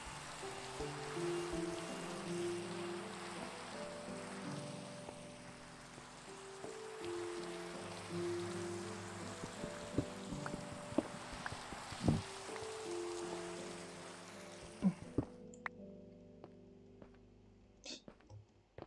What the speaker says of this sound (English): Just like that, the rain stops.